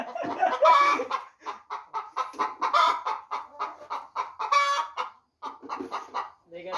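Hens on an Afghan poultry farm cluck in quick, repeated bursts close by, with sharper squawks mixed in and only brief pauses between calls.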